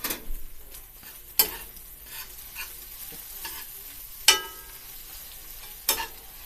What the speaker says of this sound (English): I am going to stir it in